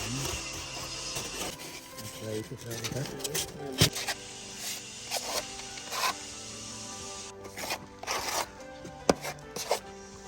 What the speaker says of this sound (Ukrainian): Одні кладуть пінопласт, а брат Ваня його ріже, заготовлює потрібні розміри